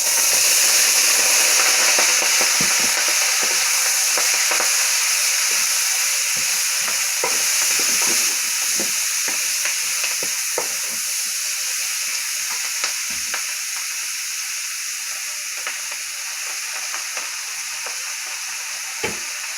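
Cabbage and chicken fry loudly in a pan, a dense hissing sizzle with crackling pops and stirring scrapes that gradually settles and softens over time, with no talking.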